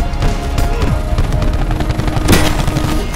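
Rapid gunfire from a Call of Duty Black Ops 4 multiplayer match: dense, loud bursts of cracking shots with a heavy low rumble, packed close together over a few seconds, with no talking.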